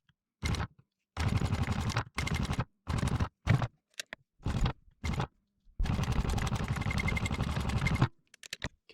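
Sewing machine tacking straps onto a tactical harness, several short bursts of rapid mechanical stitching separated by quiet pauses, then one longer continuous run, close and clear.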